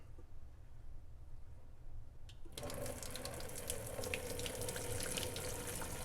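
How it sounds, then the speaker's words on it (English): Hot pasta water pours through the holes of a strainer lid on an upturned pot into a kitchen sink, starting suddenly as a steady close splashing rush after a brief quiet hum. "I'm gonna flip it upside down and I'm gonna strain the water through the little holes."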